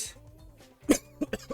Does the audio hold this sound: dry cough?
yes